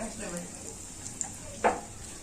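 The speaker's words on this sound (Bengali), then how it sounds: "এখানে ডিমের চপগুলো ভাজা হচ্ছে" Egg chops deep-frying in oil in a home kitchen, a steady crackling sizzle running throughout with one sharper pop near the end.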